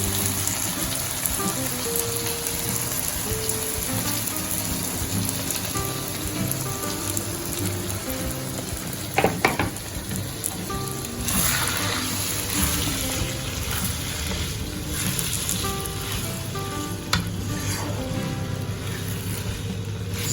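A whole 450-gram packet of chili giling paste sizzles steadily in a pan for sambal ikan bilis, a dense, rain-like hiss holding at an even level throughout, with a faint tonal background.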